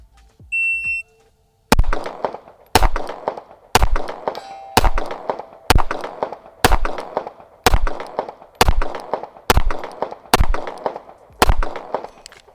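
A Smith & Wesson Bodyguard pistol fired at steel targets around 100 yards, about eleven evenly spaced sharp reports each ringing with a metallic clang, loud and close after a short electronic beep, with no talk.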